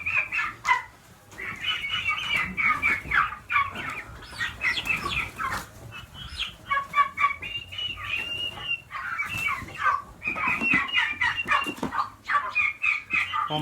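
Young turkeys give a dense flock of high, chirpy clucks and peeps, with many birds calling over one another in rapid overlapping bursts, close and fairly loud with no speech.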